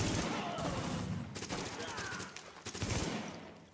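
Rapid bursts of automatic gunfire from Tom Clancy's The Division video game, loud and dense, rattling almost continuously with short breaks and no voices.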